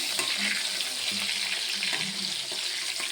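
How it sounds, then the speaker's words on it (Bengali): Eggplant frying in oil in a pan, a constant dense sizzle close by, with faint clinks and low voice-like murmurs underneath. "নিয়ে আমি বেগুনটা একটু ভেজে নিচ্ছি"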